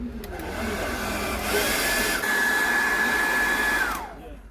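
A heat gun blows steadily to melt the adhesive under a Samsung Note 9 screen, a loud close whooshing airflow with a rising whine that drops away as it shuts off near the end.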